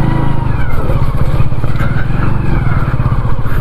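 A Kawasaki ZX10R sport bike rides through slippery mud, its engine a loud, close, continuous rumble with no let-up.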